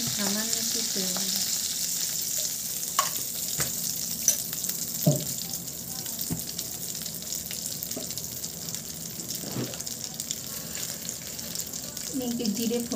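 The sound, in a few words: cumin and bay leaf tempering in hot oil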